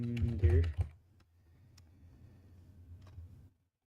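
Computer keyboard typing at a desk during a game jam session, a steady patter of soft clicks running for a few seconds after a brief burst of speech at the start.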